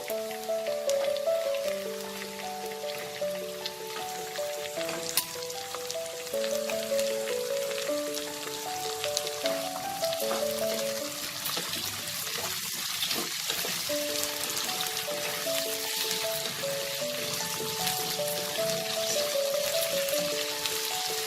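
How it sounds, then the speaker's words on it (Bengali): Thin potato slices fry under a lid in a pan over a slow flame, giving a steady, even crackling sizzle like light rain that holds throughout, close by with no talk. "এটাকে আমি ঢেকে স্লো ফ্লেমে 5 মিনিট আলুটাকে ভাজবো"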